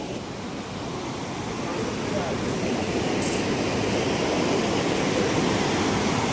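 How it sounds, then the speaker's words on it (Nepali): A waterfall at Kulekhani, Markhu roars as a broad, continuous rush of falling water that swells slightly and then holds steady and loud throughout. "क्या रहेछ त्यो झर्ना?"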